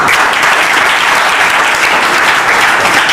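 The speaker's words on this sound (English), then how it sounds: "Give a big round of applause" Loud, close applause from an audience at a Rajasthan culture day competition event, a continuous thick roar of clapping hands filling the whole stretch without speech.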